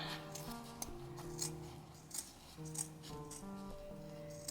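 Scissors trimming a small amount of fabric for a sewn bag, with a few short, crisp snips over soft background music and no speech.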